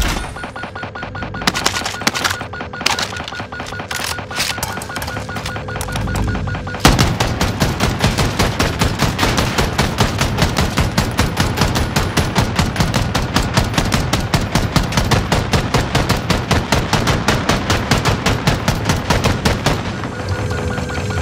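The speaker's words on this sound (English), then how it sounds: "Notice supply boxes make a distinct sound when you fire." Gunfire hits supply boxes in Call of Duty: Warzone, starting with scattered single shots and then breaking into a long, loud, rapid automatic burst that runs steadily for about fourteen seconds.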